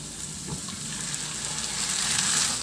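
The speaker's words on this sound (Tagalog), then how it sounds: "ihalo lang hanggang sa magisa lang na mabuti yung ating pork liempo" Marinated pork belly (liempo) sautéing with onions in a pan gives a loud, continuous close-up sizzle that swells slightly toward the end, with no voices.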